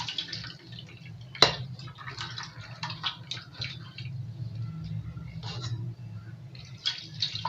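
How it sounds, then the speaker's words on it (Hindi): Water pours steadily into a bowl of sliced potatoes with a soft splashing trickle and scattered drips, one sharper plop near the start; no one speaks. "और इस तरह अच्छे से पानी डाल देंगे इसमें।"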